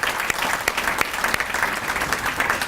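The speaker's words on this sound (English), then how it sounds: "I'd like to give applause to all our presenters today" Audience at a city State of the City event applauds its presenters and sponsors, a dense, continuous round of clapping with sharp individual claps standing out, heard alone without talk.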